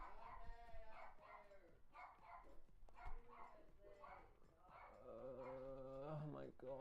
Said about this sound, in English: Can I have one stream where the dogs aren't barking?